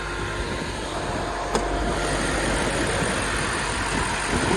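A 2019 BMW M5 sits idling at a salvage auto auction lot in Miami, its engine giving a steady, continuous rumble with a brief click partway through and no talking.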